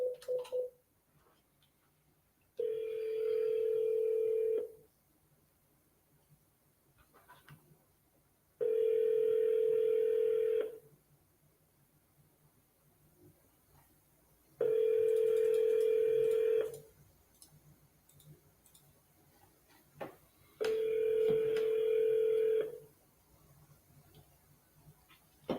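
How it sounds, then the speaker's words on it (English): A telephone call rings out over a handset line: four long, evenly spaced ringback tones about two seconds each, separated by quiet gaps, clear and close before the call goes to voicemail. "You have reached the voicemail box of Matthew Brodsky"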